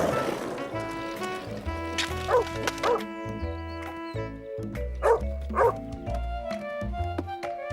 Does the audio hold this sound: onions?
no